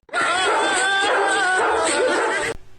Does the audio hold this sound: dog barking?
yes